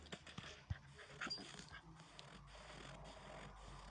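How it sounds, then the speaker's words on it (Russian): In a video game, a dog pants in quick, quiet breaths, with a faint whimper mixed into the steady panting. "Собачка."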